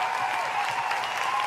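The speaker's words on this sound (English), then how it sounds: "That's a heavy clap." A single heavy clap sound effect played on a podcast set, coming through as a short, dense burst of applause-like noise that fills the moment with no talk over it.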